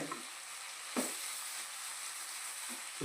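Ginger paste frying in a pan with other ingredients, a steady close sizzle with a couple of soft stirring scrapes breaking through.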